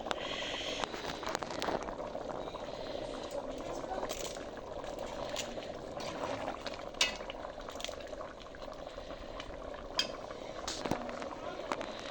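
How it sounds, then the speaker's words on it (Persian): Beans and chickpeas simmer in a pot of ash reshteh soup, giving a soft, faint bubbling with occasional utensil clinks, under a voice. "لوبیا نخود داره جوش میخوره"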